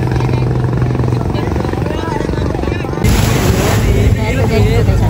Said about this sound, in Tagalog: Ito yung bangka natin.